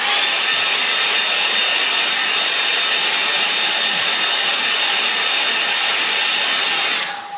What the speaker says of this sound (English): you could just use the old hairdryer